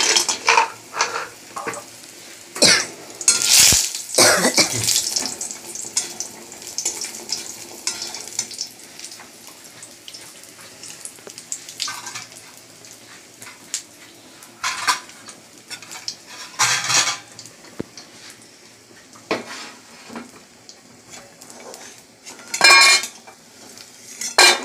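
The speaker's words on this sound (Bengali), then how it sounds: "বড়িটা ভেজে নেবো।" Bori lentil dumplings fry in a pan, with a constant sizzle broken by repeated metallic scrapes and clinks of a spatula against the pan, loudest early on and recurring in bursts throughout.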